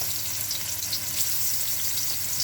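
Shrimp fry a few at a time in a hot pan for lo mein, giving a steady, close, even sizzle with no talking.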